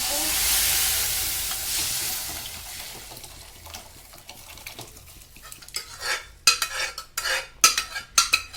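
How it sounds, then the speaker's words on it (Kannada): Ground drumstick-leaf soup paste poured into hot tempering gives a loud burst of broad sizzling that fades, followed by close, rhythmic scraping and clanking of a ladle stirring in the pot. "ರುಬ್ಬಿಟ್ಕೊಂಡಿರೋ ಸಾರನ್ನ ಒಗ್ಗರಣೆ ಹಾಕ್ಕೊಳ್ಳೋಣ"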